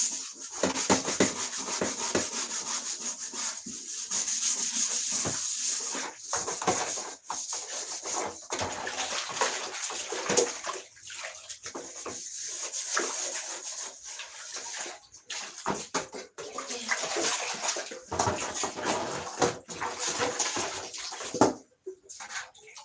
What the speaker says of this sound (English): And then finally I remove the soot again by using this scrubber.